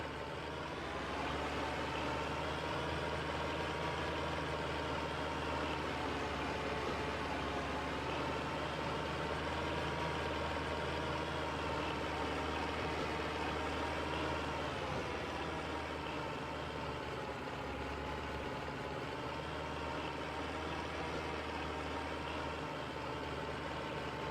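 A farm tractor engine idles on hay-making ground, a steady low rumble held for the whole stretch with faint fluctuations and no talk.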